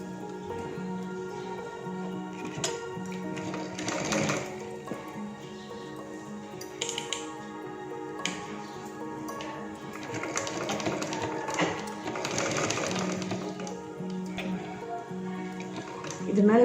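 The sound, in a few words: sewing machine stitching a readymade churidar sleeve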